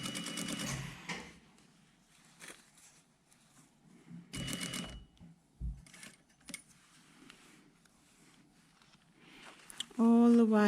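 A sewing machine stitching a jacket collar in short bursts of rapid mechanical chatter, separated by pauses and talking.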